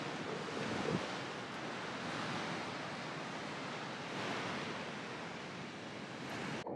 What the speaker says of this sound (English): So we're in Mokulia here in Hawaii, checking out the waves